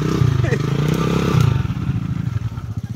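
A motorcycle engine rumbles steadily close by, its low throbbing idle mixed with rattling and a brief voice.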